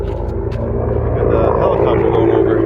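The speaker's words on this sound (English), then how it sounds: "the helicopter going over." A helicopter flies over near a border, its rotor and engine producing a steady, loud rumbling drone that builds slightly across the few seconds, heard outdoors beside a van being repaired.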